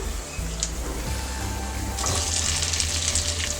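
Potatoes dropped into hot oil with cumin and green chilli, a dense steady sizzle that grows louder and crackles more as they start frying, with no voices.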